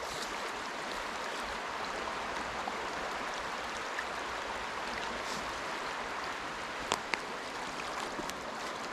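West Hickory Creek flows steadily as a broad, even rush of water, close and constant throughout, with a couple of faint knocks and no voices.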